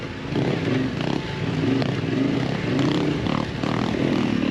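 A Yamaha Tenere 700 adventure motorcycle rides through sand, its engine a steady, rough, pulsing drone that rises and falls slightly as the rider pushes on, heard close with wind noise.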